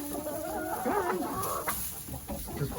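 Chickens cluck and warble indoors in a coop, several birds close by with rising, rolling calls and softer clucks, no talking.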